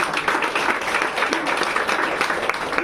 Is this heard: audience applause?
yes